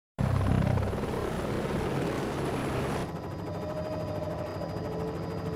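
Helicopter flying over the Makalali wildlife reserve in South Africa, a steady loud rotor and engine roar that holds throughout and eases slightly partway, with no talk.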